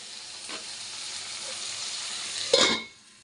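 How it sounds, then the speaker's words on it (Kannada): Tomatoes frying in a pan for a bitter gourd masala, a steady moderate sizzle with a sharp spatter and stirring scrape near the end before it cuts off. "ಟೊಮೊಟೊ ಒಂದು ಮೂರು ನಾಲ್ಕು ಸಾಕು ಇದೆಲ್ಲ ಒಂದು ಸ್ವಲ್ಪ ಫ್ರೈ ಆಗಲಿ"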